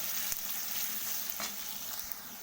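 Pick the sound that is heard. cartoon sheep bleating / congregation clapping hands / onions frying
onions frying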